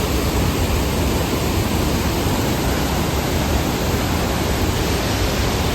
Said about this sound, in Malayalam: ഗൈസ് നല്ല അടിപൊളി മഴയാണ് ഇവിടെ.